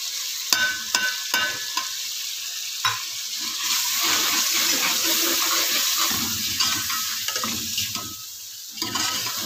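Chicken pieces and masala with half a cup of yogurt fry in a pan, a steady loud sizzle with repeated scraping stir strokes throughout, no talk.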